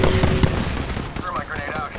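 Gunfire in the battle royale game Apex Legends, a dense stretch of rapid shots and blasts mixed with game effects and a voice speaking over the action.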